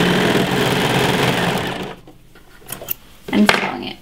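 A sewing machine stitches folded-over fabric for an oversized raglan top, running steadily and close for about two seconds before stopping, followed by a few soft handling noises.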